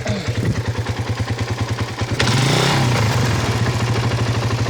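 A Suzuki Satria FU motorcycle engine, which overheats quickly, idles close by with a steady, rapid low thumping. It then surges into a louder, rougher rev midway and keeps running strongly.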